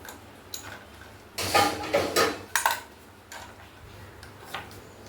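A knife cuts fruit on a board in a home kitchen, giving a short cluster of sharp taps and chops with a few scattered clicks afterward, fairly close and with no talking.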